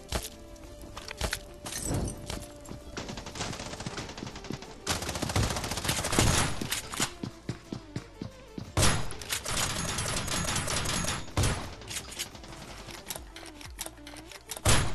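Bursts of video game gunfire crack through a match in rapid volleys and single shots, dense and loud in stretches with brief pauses between exchanges.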